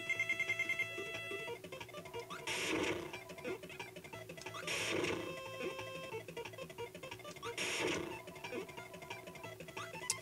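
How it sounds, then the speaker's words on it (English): A phone rings in Kirby's Dream Land 2 over looping chiptune game music, sounding as three separate ringing bursts spaced about two seconds apart. "Phone's ringing."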